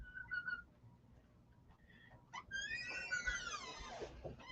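A wall clock plays a birdsong chime, quick chirps and trills that are faint and slightly distant indoors, mixed with low room noise and soft rustling.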